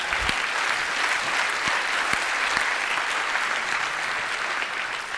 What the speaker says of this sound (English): Give Joe a round of applause